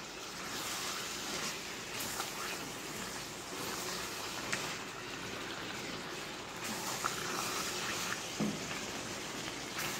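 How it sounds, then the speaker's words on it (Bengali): Chicken pieces for biryani, cooked with green and dried chillies, sizzle and fry steadily in a pan as a dense, continuous hiss at close range, with no voices. "মাংসটাকে বেশ কিছুক্ষণ কষিয়ে নিতে হবে।"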